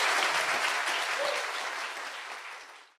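Studio audience applause on a Korean talk show, loud dense clapping that gradually fades over a few seconds before cutting off abruptly.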